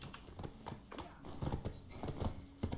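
A horse's hooves clip-clop in Black Desert Online, a steady run of soft, rhythmic hoofbeats that grows slightly louder toward the end, heard faintly with no talking.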